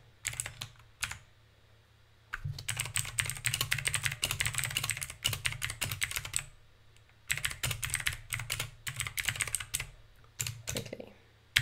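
Fast, continuous typing on a computer keyboard, close and crisp, in two long bursts split by short pauses, with no talking over it.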